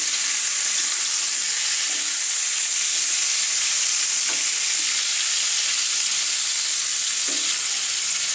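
Chicken frying in oil in a covered pan over medium heat, giving a steady soft sizzle and hiss throughout with a few faint clinks, heard alone without talk.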